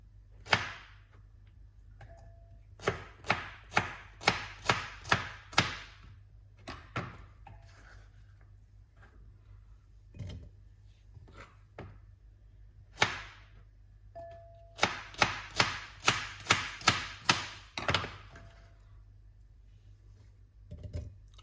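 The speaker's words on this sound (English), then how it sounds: "So cutting up the okra, and we're going to put them straight into the cup like this." Sharp knife chops strike a cutting board through okra in quick bursts of rapid taps, separated by short pauses and a few softer clunks, close and crisp.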